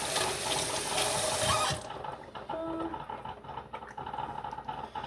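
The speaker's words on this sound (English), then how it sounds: "I need to rinse my hands" A tap running while hands are rinsed: a loud rushing gush for a couple of seconds that drops to a softer, steady flow of water splashing and trickling nearby.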